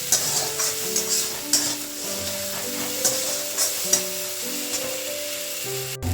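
Spice paste for a mustard fish curry fries steadily in a pan, with a continuous sizzle broken by repeated scraping stir strokes and no voices.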